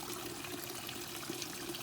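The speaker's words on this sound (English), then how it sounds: "it adds a little bit of air into the pond, so you're going to get bubbles blowing around out there" A pond jet near a waterfall pushes air into the water, giving a steady, faint bubbling and trickling wash with no pauses.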